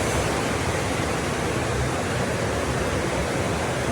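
Heavy rain pours steadily outside, a dense unbroken hiss of constant loudness with no pauses and no voices.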